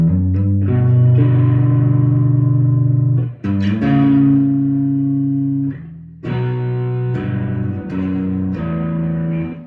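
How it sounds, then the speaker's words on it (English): An electric guitar through a Greco Screaming 82 humbucker, pushed into loud fuzzy distortion: a few long sustained notes with short breaks between them, played alone. "Like a fuzzy kind of distortion where there's really a lot of volume being pushed through as I go on the long notes."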